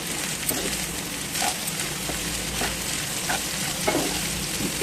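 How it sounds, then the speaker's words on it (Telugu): Sesame seeds and dried chillies fry and get stirred in a pan with onions, a steady close sizzle under repeated scraping stir strokes, with no talking. "వీటిని బాగా వేయించుకుందాం"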